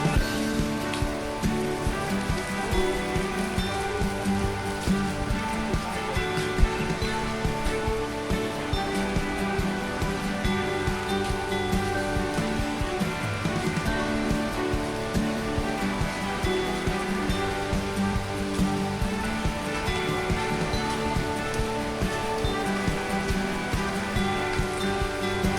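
Steady rain falls at Gembira Loka Zoo in Yogyakarta, a dense, unbroken hiss of water on surfaces that holds at an even, fairly loud level throughout without any voices.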